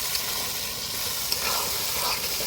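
Mutton curry sizzles and fries in a pan, a continuous steady crackling hiss with small pops, moderately close and alone without any voices.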